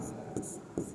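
Chalk or marker strokes as an equation is written on a board, two or three short scratchy strokes close by in a quiet room, with no speech.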